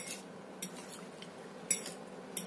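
A utensil stirs chopped tofu into a mixture in a pan or bowl, giving faint, sparse clinks and scrapes at irregular intervals over a soft, steady background.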